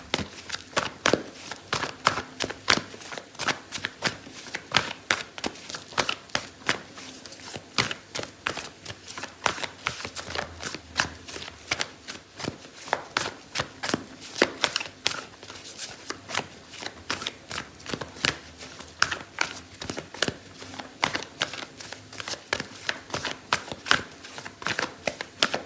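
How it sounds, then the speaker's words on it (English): Oracle cards being shuffled continuously during a tarot reading, a dense, steady riffling and flicking of card stock, close and clear throughout with no speech. "Okay, so I'm going to pull out an oracle card for you"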